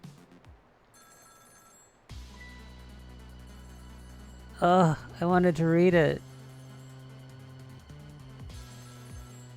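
A telephone rings in the video game Ghost Trick: Phantom Detective, sounding as a loud electronic trill in three bursts within a quiet game soundscape, with a person talking before and after.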